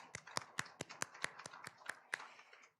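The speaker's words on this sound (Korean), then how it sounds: "박수로 한번 우리 격려해 주실래요?" A church congregation claps at a Wednesday worship service: a sparse, uneven run of crisp individual claps from a few people, fairly quiet and close, with no voices.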